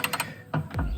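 A ratchet with an extension works the window bolts of a Nissan Stagea, making a quick burst of three clicks followed by two heavier ratcheting clicks and a low clunk, close by.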